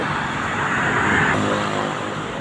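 Road traffic on Sumulong Highway toward Antipolo and Cubao: cars rumble past in a continuous loud wash, one vehicle swelling nearer around the middle before fading, with no talk.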